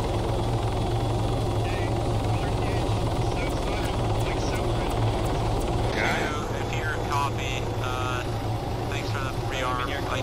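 A helicopter in the video game Arma 3 gives a loud, steady rotor and engine roar that fills the whole stretch, with voices shouting over it.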